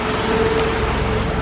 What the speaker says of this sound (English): Ingay ng sasakyan near me, oh.